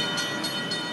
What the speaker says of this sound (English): What was that? A train?